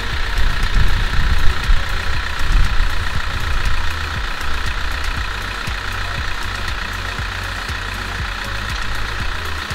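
A tipper lorry's diesel engine running with the hydraulic power take-off engaged, loud and rough at first, then settling into a steady idle with a regular low knocking pulse, no speech.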